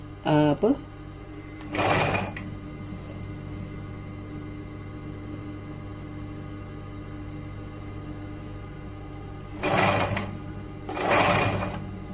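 Short bursts of a sewing machine stitching a jubah around a corner, one near the start and two near the end, separated by a long stretch of low steady hum with a brief click at the opening.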